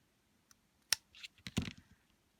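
Scissors snip the ends off small ribbon bows: a few quiet, sharp clicks and a couple of short cutting crunches, close and faint, with no voices.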